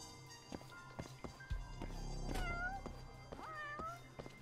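Game cats meow a few times, wavering cries in the middle and near the end, amid footsteps, knocks and a busy low rumble.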